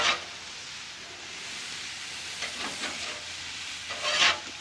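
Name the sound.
onions sizzling and caramelizing in a pan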